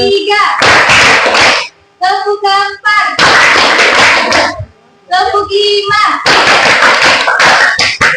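A group claps hands in unison during a counting ice-breaking game, several loud sharp bursts of rapid clapping separated by short pauses, with a voice calling out between them.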